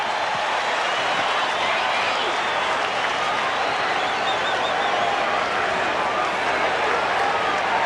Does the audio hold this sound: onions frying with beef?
no